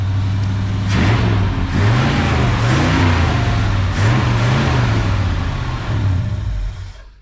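A 1965 Ford Galaxie 500 hardtop engine revs repeatedly, rising and falling in several loud, close bursts over a steady idle before easing off at the end.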